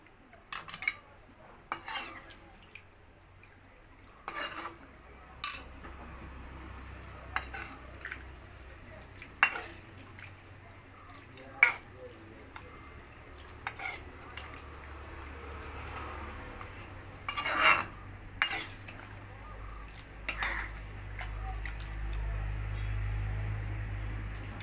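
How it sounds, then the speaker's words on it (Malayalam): A spoon stirs pork curry in a metal pot, giving scattered clinks and scrapes at an irregular pace against a quiet background, with a low bubbling rise near the end. "നല്ലപോലെ ഒന്ന് ഇളക്കി കൊടുക്കാം"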